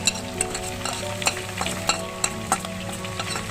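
Fried onion stirred into a Kashmiri lamb curry sizzles steadily in the pot, with spoon scrapes and clicks knocking through the hiss at an uneven rhythm, close and moderately loud.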